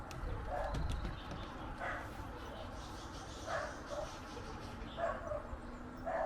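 Distant dogs barking in repeated short bursts, faint against low background noise, with a few scattered clunks early on.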